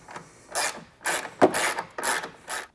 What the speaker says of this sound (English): We'll get those removed now.